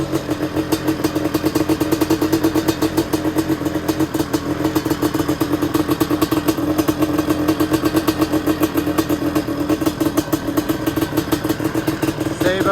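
Several 250cc motorcycles running at the sand dunes, a loud continuous rattling engine drone close by with steady idling and light revving throughout.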